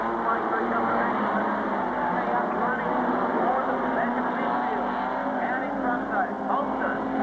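Modified sedans racing at Carrick Speedway in the 1998 Australian title, engines roaring in a sustained blur of passing cars with a race commentator talking over them.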